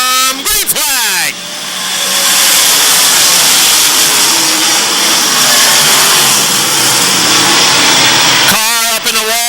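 A field of race cars roars away at the green flag, a dense, loud wash of engines rising and holding steady, with an announcer talking briefly at the start and again at the end.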